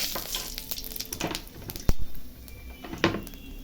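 Cumin seeds and a dried red chilli sizzling in hot oil while fish curry with potatoes, tomatoes and onions gets started, with a steady close crackle and a few sharper pops along the way.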